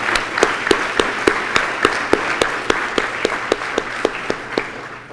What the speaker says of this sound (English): Let's give an applause to Steve Jobs' Apple Campus legacy.